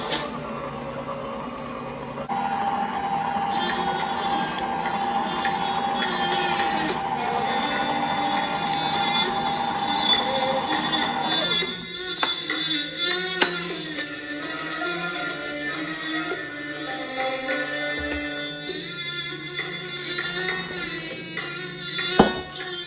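An electric mixer beats flour into zucchini bread batter with a steady close whir, then changes pitch midway and continues more unevenly, with occasional clunks against the bowl.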